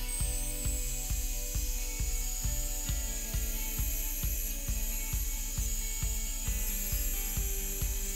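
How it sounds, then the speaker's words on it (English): A bandsaw cuts tenons in maple pieces, its steady motor drone pulsing in a regular rhythm of about two beats per second, with a constant high whine over the top and no voices. "I took the maple pieces over to the bandsaw to start cutting the tenons."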